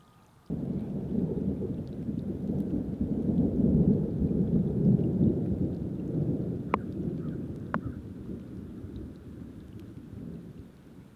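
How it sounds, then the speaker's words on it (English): Distant thunder rolls as a long, low rumble that swells and slowly fades over rain falling outdoors near a park pond, with a couple of faint clicks and no talk. "There was a little thundering."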